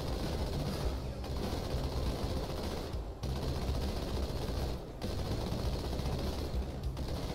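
Sustained automatic gunfire from a firefight in Halo 2 Anniversary, loud and dense for about seven seconds, with two brief dips where the shooting pauses before resuming at full intensity.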